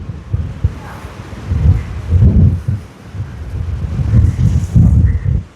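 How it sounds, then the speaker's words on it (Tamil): Strong wind buffets the microphone while waves crash on the shore at Keerimalai beach, a rough, gusty roar swelling and easing in irregular surges, close and loud, with no talk. "இப்போ பாருங்க, இந்த கீரிமலை கலருடைய அலை வந்து அப்படி அடித்து கொண்டு இருக்கு"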